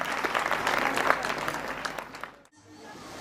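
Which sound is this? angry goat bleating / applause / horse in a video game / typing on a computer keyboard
applause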